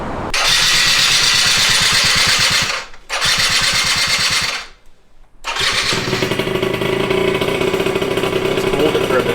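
Motorcycle engine, an R30, revving hard on the throttle nearby, loud throbbing bursts broken by two brief drops before a steady high-revving hold to the end.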